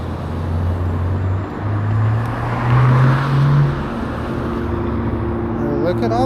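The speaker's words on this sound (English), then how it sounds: "Look at all this freaking traffic," Road traffic heard from an eBike on a commute home, a loud, steady roar of passing cars with engine tones that drift upward as vehicles go by, wind rumble throughout and no talk.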